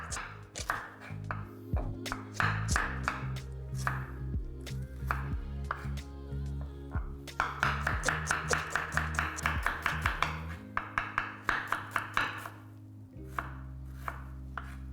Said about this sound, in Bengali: দেখুন, এবার একইভাবে আমি বাকি পেঁয়াজগুলোকে ছাড়িয়ে নিয়ে কেটে নিচ্ছি।